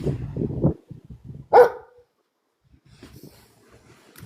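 Low rumbling noises lead into a single loud, sharp bark from a dog close by, then a faint muffled sound trails off into near silence.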